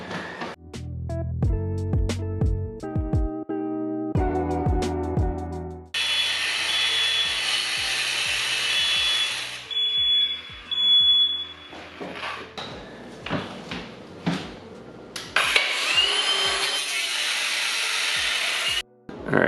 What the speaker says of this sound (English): I have a angle grinder